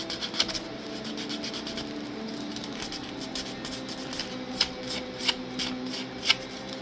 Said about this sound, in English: This is what, 150 grit sandpaper.